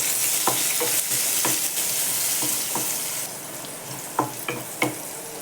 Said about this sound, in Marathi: कांदा घालते बघा.